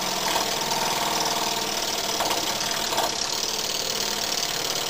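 A small single-cylinder oscillating steam engine model runs fast, about 3/8-inch bore with a flywheel roughly 1 1/4 inches across, giving a steady rapid mechanical chatter and hum that stays close and even throughout, with no talking.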